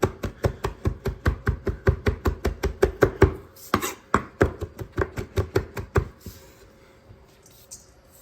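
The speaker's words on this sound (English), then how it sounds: "We're gonna give that a quick chop." A knife chops fresh thyme on a cutting board in a fast, even run of sharp close taps, about twenty-five strikes with a brief pause partway, then the tapping fades to quiet handling.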